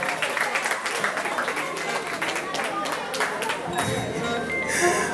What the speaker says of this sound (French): Quand je vous demande d'applaudir bien fort